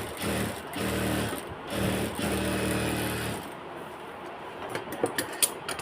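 A sewing machine runs in steady, rapid bursts while stitching a baby frock for a three-year-old, whirring loudly for about three seconds before stopping, followed by faint handling clicks and light taps.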